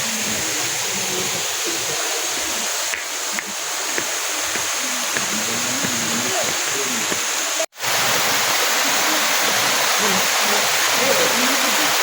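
Clear stream water flows steadily and loudly at a family camp in Santa Maria, Laguna, a constant rushing wash with a brief dropout midway and faint background voices.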